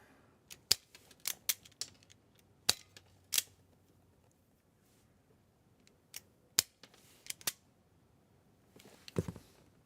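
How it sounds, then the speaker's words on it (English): Scissors snipping wire while preparing crimp connections for a Blue Sea Systems 360 AC distribution panel: a series of sharp, close clicks and snips in quick bursts, with quiet gaps between them. "You might see me trim some of these with scissors."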